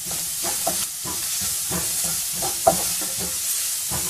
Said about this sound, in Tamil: ஆனியன் நல்லா ஃப்ரை பண்ணிட்டேன்.